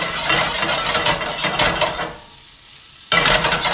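Escargot sizzling in a hot pan, a steady crackling fry with stirring scrapes that drops away for a moment before the sizzle returns loud and close.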